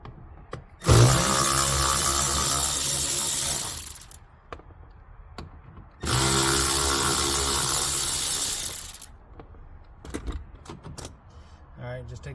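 A power driver backs out two T20 screws from a folding storage retainer in a RAM TRX pickup truck: two loud, steady whirring bursts of about three seconds each, with light handling clicks between and after.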